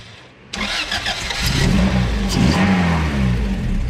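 A Honda Integra DB1 with a B18C1 engine cranks and fires up sharply after a moment of quiet, then revs a few times and settles into a loud, buzzy idle nearby.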